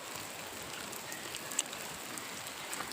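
Continuous rainfall patters on a surface, a steady broadband wash with an occasional louder drop.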